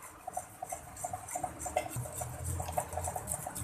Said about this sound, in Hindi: स्पून हिलाते जाएंगे